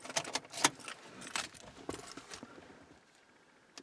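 A car key jangles in a bunch, with bright clinking taps as it is handled and slid into the ignition, close and fairly loud before fading to quiet.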